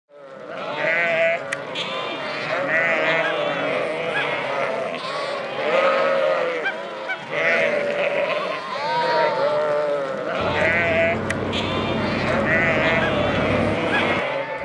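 A large flock of sheep crowds a roadside along Highway 89 in central Utah, bleating loudly and constantly with overlapping voices near and far. A low engine-like rumble joins in toward the end.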